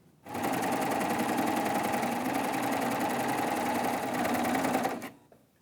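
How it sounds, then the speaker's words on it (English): A serger runs fast and steady for about five seconds while it stitches fabric binding with fusible thread, a close, even mechanical whir that starts and stops sharply, with no talking. "Then I'll put it in my machine and I'll serge this other side."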